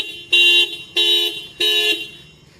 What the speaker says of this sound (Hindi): अगर मैं लॉक अनलॉक बटन को दबा के रखूँ थोड़ी देर तो गाड़ी आवाज़ करेगी